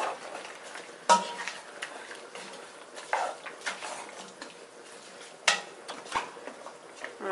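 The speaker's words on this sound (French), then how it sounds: "Et on va remuer le tout et remettre à cuire pendant 10 minutes." Couscous royal stew stirred in a pot, with a spoon knocking against the metal now and then in sharp scrapes and clinks over a quiet bubbling background, no talk.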